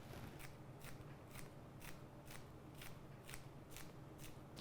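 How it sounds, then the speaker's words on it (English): Kitchen scissors snip through green onions in a quick, even series of about ten crisp cuts, close and clear over quiet room tone. "Scissors are a really great tool for cutting up leafy things like green onions"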